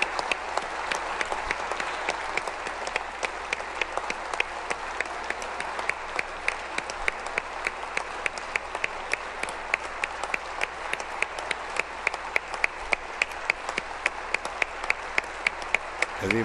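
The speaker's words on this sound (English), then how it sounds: "we'll listen to the applause" Sustained applause from the Joint Assembly audience as West Virginia Governor Jim Justice walks to the podium for his State of the State address, dense steady clapping filling the hall for the whole stretch.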